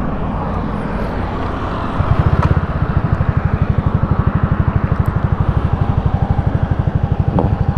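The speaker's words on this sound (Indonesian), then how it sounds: "knalpot bobokan, lumayan sih suaranya juga nggak bacot-bacot banget" A Honda Scoopy scooter engine with an aftermarket exhaust idles nearby with a deep, rapid, rhythmic exhaust putter that grows slightly louder after a brief rev.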